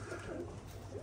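Teddy pigeons in a loft give a continuous low cooing murmur, several birds overlapping close by, with no voices present.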